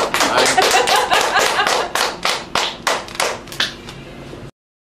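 A run of about a dozen sharp, distinct hand claps in a pub, close and loud, spaced evenly and then slowing and fading before stopping abruptly.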